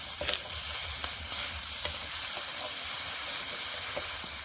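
Rice, sliced beans, salt and a little oil cooking in a hot pan for a bean paste dish, giving a steady close sizzle with scattered sharp spatters and pops, no voices.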